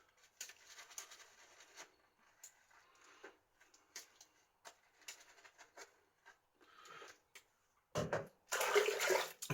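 A metal-handled badger hair shaving brush swirls over shaving soap in a series of soft, close, scratchy swishing bursts with short pauses, ending in a louder, denser scrub.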